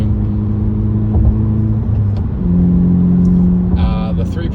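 A 2018 Honda Civic Sport with a straight pipe exhaust and turbo accelerates, its engine drone rising steadily in pitch through the gear, loud and close, with a brief higher whine near the end.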